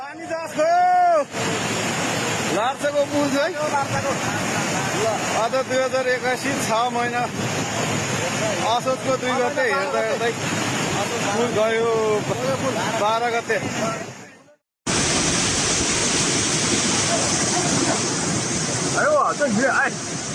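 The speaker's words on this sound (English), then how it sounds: "In Nepal, a swollen river overwhelmed and destroyed a bridge in its path" A swollen river in Nepal surges and roars as it overwhelms and destroys a bridge, a loud, continuous wash of rushing water with crashing surges, close and dense throughout with a brief break near the end.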